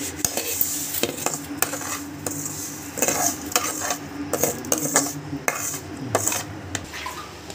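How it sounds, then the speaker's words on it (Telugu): Fried vermicelli being stirred into sago pudding in a metal pot, with a steady run of clanks and scrapes of a spoon against the pot and a soft bubbling underneath, close and unvoiced. "ఇప్పుడు మనం వేయించుకున్న సేమియాని ఇందులో యాడ్ చేసుకోండి."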